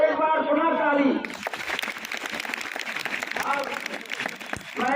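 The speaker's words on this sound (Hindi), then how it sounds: "एक बार पुनः ताली" Crowd applause breaks out at a road safety event in a government higher secondary school in Chhatarpur, a dense steady clatter of many hands that follows a voice and carries on at a moderate level for several seconds.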